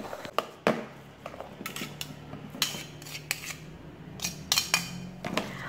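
Boiled potatoes being mashed, with irregular sharp clinks and taps of a metal utensil striking the bowl amid softer scraping, close and fairly quiet.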